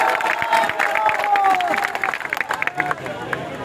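A crowd at an Indian political rally claps and cheers for a few seconds, a broad steady roar of applause that thins toward the end, with voices mixed in.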